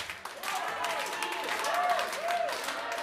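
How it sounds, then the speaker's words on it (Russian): Dense applause from an audience fills the whole stretch, steady and fairly loud, with a few voices calling out over the clapping. "Всем аплодисменты вам, друзья."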